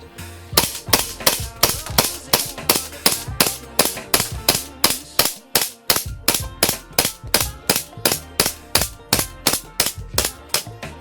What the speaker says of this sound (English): Let's see how many more we can sling out of the barrel before we have to fill it up with gas again